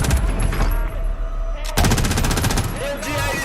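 An MG82 machine gun in Call of Duty Warzone fires in rapid sustained bursts, loud and close, with a short gap midway before the fire resumes. Faint background talk sits under the gunfire.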